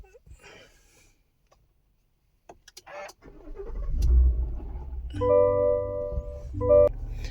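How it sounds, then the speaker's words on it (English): A 2023 Chevrolet Suburban Premier engine cranks and catches, then settles into a low rumbling idle with chimes from the cabin, close and fairly loud after a quiet moment with brief talk. "So let's start the car up."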